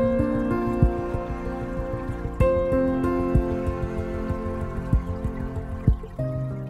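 Water trickles and drips steadily through the filter overflow of a 1-gallon pico reef aquarium, with a continuous close bubbling flow broken by brief louder splashes and plops.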